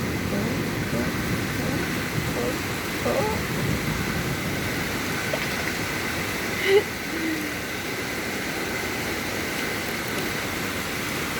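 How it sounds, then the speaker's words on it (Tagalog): Steady rain hiss falls outside a window on a windy day, a continuous broadband wash at moderate level with one brief sharp knock partway through. "Yan, umuulan na siya."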